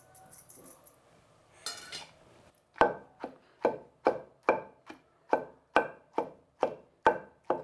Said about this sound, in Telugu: బెండకాయ కొంచెం మరీ మెత్తగా లేకుండా కొంచెం మీడియంగా దంచుకోవాలండి.